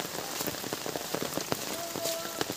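Steady rain falls on a surface outdoors on a wet day, a dense even patter of drops with a few sharper nearby hits, no voices.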